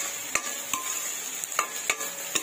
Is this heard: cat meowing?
no